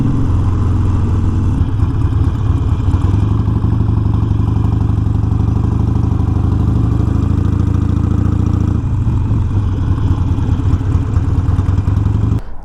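A Harley Sportster Iron 1200 rumbles loud and close while riding, its deep engine throb holding steady before easing off as the bike slows and pulls over, with no speech.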